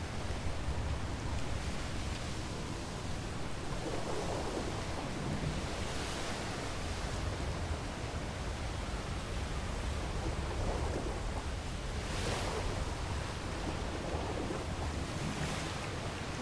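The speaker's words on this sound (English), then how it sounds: "Ooh, we got some storms coming in." Stormy sea in a video game: continuous wind and crashing waves form a loud, broadband roar, with occasional swells surging and fading over sixteen seconds and no voices.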